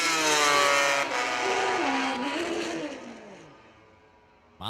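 Kawasaki racing motorcycle engine at a drag race, a loud, close, high-pitched roar that rises and wavers through the gears, then fades into the distance.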